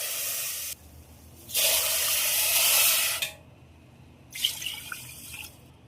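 Water is poured from a bowl onto sugar to make syrup for semolina gulab jamun, with a longer splashing pour followed by a shorter one, close and clear.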